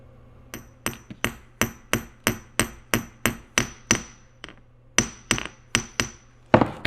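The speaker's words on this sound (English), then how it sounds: "It'll go from a high-pitched tap to a dull thud when it's seated in the bottom" Dowels are tapped into a Ural constant-velocity driveshaft with a hammer: about twenty sharp, ringing metallic taps at a steady, quick rhythm, close and loud, with a short pause partway through and no voices.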